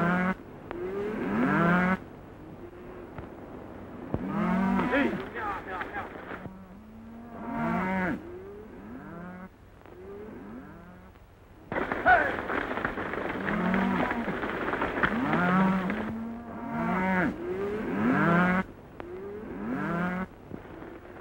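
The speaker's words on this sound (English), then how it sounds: "nice bunch of cattle you're sending to market, Mr. Dawson." A herd of cattle being driven to market in a Western setting, lowing and mooing repeatedly in long calls, several animals overlapping, with a rumble of the moving herd behind them.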